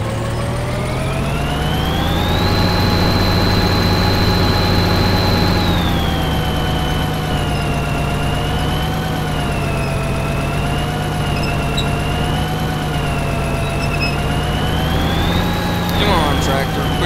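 Tractor engine in the video game Farming Simulator 2013, a loud continuous drone that rises in pitch, holds, then drops and wavers up and down as the revs change, with a player's voice over it.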